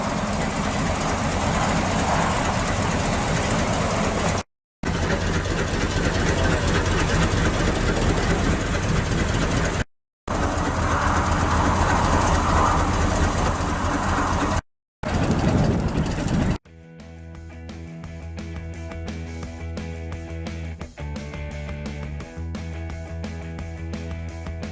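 A 1984 K-20 truck under way gives a loud, steady, rumbling drive noise broken by several abrupt cuts, then a quieter stretch with a lower, droning engine tone.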